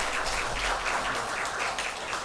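An audience at a university chapel service applauds in thanks, a brief, dense patter of clapping at moderate distance.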